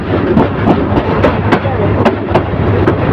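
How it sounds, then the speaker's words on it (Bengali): A passenger train running between Bajitpur and Bhairab rolls along the rails, heard from inside as a loud, steady rumble with regular clickety-clack wheel beats roughly every half second, close and unbroken, with no voices. "ট্রেনের গতি বাড়াচ্ছে ধীরে ধীরে।"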